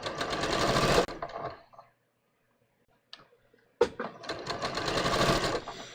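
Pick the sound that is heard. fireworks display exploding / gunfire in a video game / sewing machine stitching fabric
sewing machine stitching fabric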